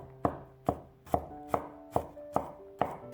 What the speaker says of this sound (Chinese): 几瓣去皮的大蒜，先切成蒜片，再改刀切碎一些。